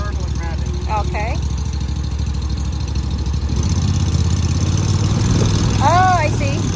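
A zero-turn lawn mower engine runs steadily at a throttle setting halfway between slow and fast. Its close, continuous drone grows slightly heavier partway through, under men's conversation.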